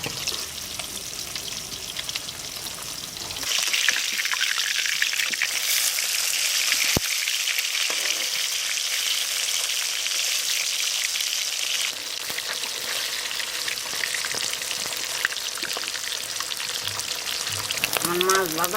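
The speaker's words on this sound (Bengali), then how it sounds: "বড় মাছ তো অল্প দিয়ে দিয়ে ভাজবো।" Pieces of chital fish fry in mustard oil in a hot wok, giving a loud, steady, dense sizzle that starts abruptly and holds for most of the stretch with a few small pops and clinks.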